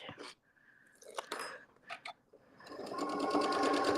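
A sewing machine stitches in reverse, with a short burst of clicks and handling noises before the motor hums and the needle clatters loudly near the end; faint speech-like sounds are mixed in.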